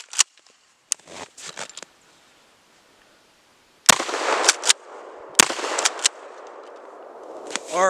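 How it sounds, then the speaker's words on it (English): Two loud shotgun blasts of double-aught buckshot fired at a laptop, each a sharp crack with a ringing tail, alongside other sharp bangs and scattered clicks spread through the clip. "Let's take both shots at that laptop and see how many pieces fly through the air."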